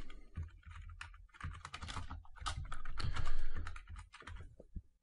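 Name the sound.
typing on computer keyboard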